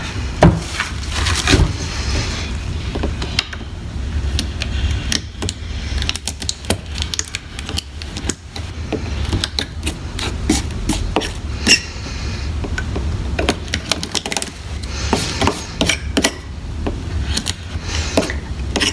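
A craft knife with a dull blade scrapes and cuts through a cured resin coat, giving a run of close, dry scratching and clicking strokes in an irregular rhythm, with no talking.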